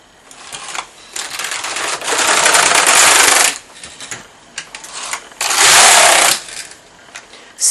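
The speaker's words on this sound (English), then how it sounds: "we're going to knit 2 rows" A Passap knitting machine knits two circular rows, the carriage sweeping across the needle bed in loud, rasping mechanical runs, a long pass and then a second one after a short pause, close up with no talk.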